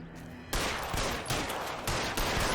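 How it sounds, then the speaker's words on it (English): Sustained gunfire from L.A. Noire, a dense, loud barrage of rapid shots that bursts in after a brief quiet opening and keeps pounding without pause. "It's just constantly just shooting at him."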